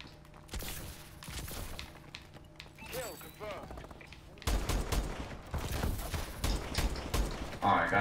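Gunfire from the video game Call of Duty Advanced Warfare, with repeated bursts and scattered shots that grow louder in the second half. A player talks over the shooting.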